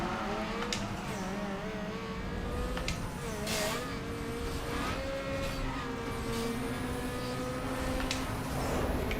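A car engine in the racing game Need for Speed Underground 2, an R34, revs hard with rising and falling pitch sweeps and gear changes, loud and continuous. A voice is faintly present under it.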